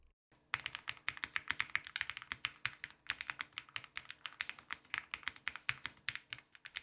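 Rapid, steady typing on a mechanical keyboard with a home-office setup. Crisp clicks of keycaps and switches come close and continuous, in an uneven but busy rhythm with no talking.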